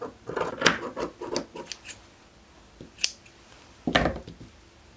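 Sewing scissors snip through fabric while trousers are cut out, with a few close, crisp cuts and sliding blade sounds, the last cut louder than the rest.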